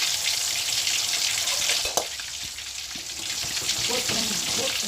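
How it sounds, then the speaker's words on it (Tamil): Mutton meatballs fry in hot oil in a pan with a steady, close, dense sizzle that lasts throughout. There are a few soft knocks and stirring touches, and no voices. "அடுப்பில் சட்டியை வச்சு எண்ணெயை ஊற்றி சூடு வந்ததும் நம்ம உருட்டு வச்ச கறிபாலை அதில் போட்டு நல்லா நன்றாக புண்ணியமாக பொறிச்சு எடுத்துக்குவோம்"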